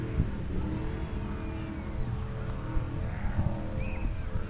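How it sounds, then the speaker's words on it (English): A speedboat engine drones steadily at a moderate distance on a summer afternoon, with wind and water noise around it. "It's a boat, a speed boat. Oh. Yeah. That makes so much noise."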